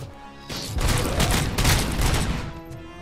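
In the game Robocop: Rogue City, heavy gunfire erupts in a dense burst of booming shots lasting a couple of seconds, loud and close, then fades away.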